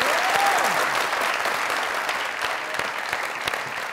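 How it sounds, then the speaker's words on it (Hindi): Studio audience applause on a Pakistani comedy talk show, steady dense clapping at moderate level, a brief whistle-like tone near the start. "जोरदार तालियां।"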